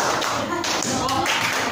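A group of schoolchildren claps in unison at a primary school event, with a loud, sharp burst of hands striking at once, followed by lingering room noise.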